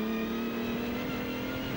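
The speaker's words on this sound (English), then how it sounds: "And this is the white Riley away from the line, carrying our onboard camera." Onboard sound of a 1933 Riley Special race car pulling away from the start line at a classic car sprint, a steady loud engine drone with no speech.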